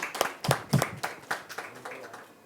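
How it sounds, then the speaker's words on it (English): A handful of people clap at a Filmfare Awards press conference, a brief, sparse and fairly faint patter of separate claps that thins out over a couple of seconds. "Ladies and gentlemen, once again, please give them a big round of applause."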